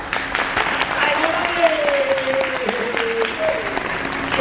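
A crowd at a Universal Studios Japan show applauds twin performers, a dense, sustained wash of clapping with a voice speaking briefly over it.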